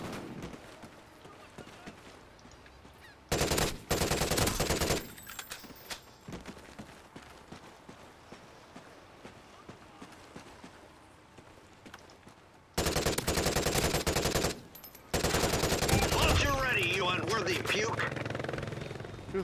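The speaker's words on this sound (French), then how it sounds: "Sentry gun is ready, sweetie pie." Sentry gun in a video game firing long dense bursts of rapid automatic fire, loud and close, in two main stretches separated by quieter play where a voice talks.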